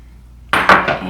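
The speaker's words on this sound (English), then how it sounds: "So I've already measured out 2 cups of whole walnuts. We'll put those in." Whole walnuts and coconut flour tumble into a food processor bowl, a loud close clatter of nuts on plastic in two or three quick rattling pulses.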